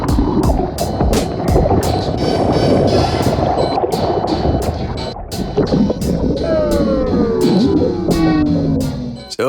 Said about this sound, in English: It feels really weird paddling through slush.